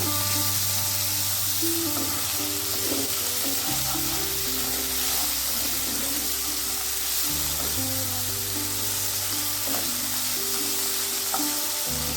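Chopped chicken and chilli stirred in a frying pan give a loud, continuous close sizzle with repeated scraping strokes, set against steady background music.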